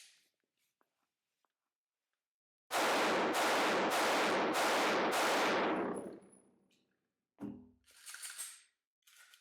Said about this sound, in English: Now we're going to shoot a little bit of a slower pace.